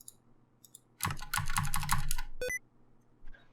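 A burst of rapid computer keyboard typing, close and crisp, with a flurry of key presses lasting about a second and a half, then a couple of isolated clicks, with no talk.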